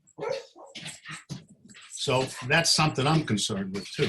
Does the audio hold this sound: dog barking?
yes